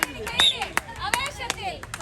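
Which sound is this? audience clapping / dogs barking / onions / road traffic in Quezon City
audience clapping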